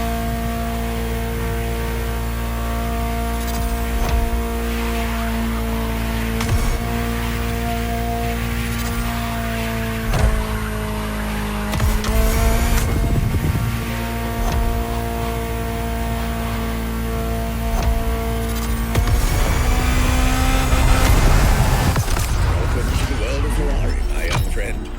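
A Ferrari supercar engine in the racing game The Crew Motorfest drones with a steady, loud tonal roar, swelling and shifting pitch with gear changes and throttle bursts, while a voice talks over it.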